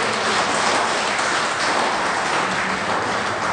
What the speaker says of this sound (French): Applaudissez.